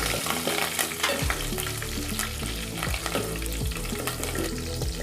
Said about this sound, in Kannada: ಇಲ್ಲಿ ಇವಾಗ ಸಾಸಿವೆ ಸಿಡಿತಾ ಉಂಟು.